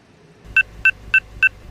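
A phone number is redialed on a handset: four short, evenly spaced, bright keypad beeps, close and clear over a quiet low hum, with no talking.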